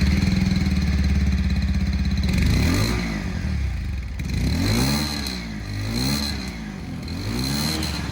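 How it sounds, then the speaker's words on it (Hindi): Engine revving on a 2023 Yamaha FZS V4 E20 or a Bajaj Pulsar 150 TD E20 motorcycle: a steady idle, then a series of rising and falling throttle blips through the exhaust, close and loud with no talk. "एग्जॉस्ट साउंड है वो भी मैं आप लोगों को सुना देता हूँ।"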